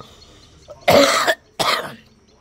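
Two harsh, close coughs, the first longer and rougher, the second shorter, separated by a brief pause in an otherwise quiet setting.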